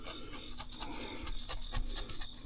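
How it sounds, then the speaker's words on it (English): An oscillating multi-tool scrapes foam residue off a surface before caulking, giving a steady, close, rasping buzz with faint scratchy pulses throughout. "that oscillating tool, I think, is probably making it easier than if I was using a razor blade"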